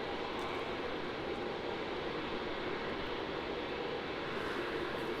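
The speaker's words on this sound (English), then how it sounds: "Clayton, yes, we have that Qantas A330 coming in next, flying just over Lancefield at the moment" A Qantas Airbus A330 airliner arriving at Melbourne Airport gives a steady, broad roar of engine and air noise that holds level throughout, heard from a distance with no voices.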